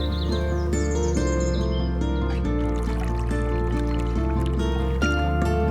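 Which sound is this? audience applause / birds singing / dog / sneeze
birds singing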